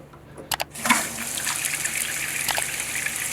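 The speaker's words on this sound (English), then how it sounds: "Now we're going to fill this toilet up." A toilet tank refills with water after the supply valve is opened, beginning with a couple of clicks and then a steady rushing, hissing gush of water that carries on, close and alone.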